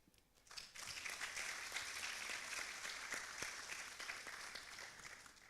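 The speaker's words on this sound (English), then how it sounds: "I would like you also to give a round of applause to Mr." A congress hall audience breaks into applause for translator Tony Diakite. The clapping starts abruptly, stays dense and steady for several seconds, and is heard from a slight distance.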